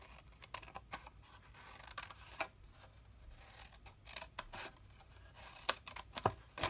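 Scissors snip a small notch into store-bought chipboard tags, giving a run of quiet, irregular cuts and crisp snips with soft paper rustling between them, close up and with no talk.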